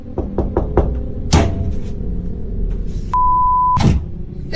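Several sharp knocks on a door or wall at night as someone gets ready for bed, a few quick raps in a row followed by a louder thud, then a steady electronic beep and another heavy knock over a low room rumble.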